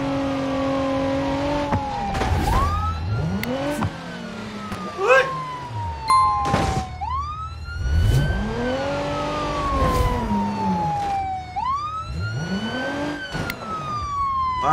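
Police sirens wailing in BeamNG.drive during a multiplayer chase, several rising and falling sweeps repeating loudly over engine and crash noise, with a voice talking in places.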